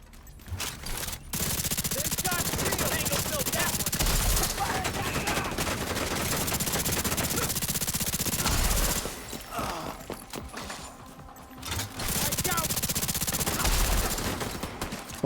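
Rapid bursts of automatic gunfire from The Division 2, dense overlapping shots in long sustained volleys with short pauses between, loud and close.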